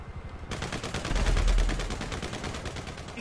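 Rapid automatic gunfire in the video game GTA 5 rattles loud and continuous for about three seconds, a dense stream of close shots with no talk.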